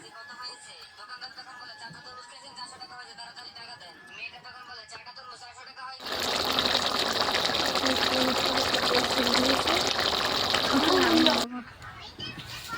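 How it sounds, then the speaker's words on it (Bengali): Water is poured into a pan of cooking chicken skin, a loud steady gushing splash lasting about five seconds mid-clip, preceded and followed by quieter kitchen sounds with talking. "দেখো তেল ছেড়ে দিয়েছে, এখন জল দিয়ে দিলাম।"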